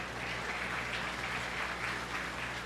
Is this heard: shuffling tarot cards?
no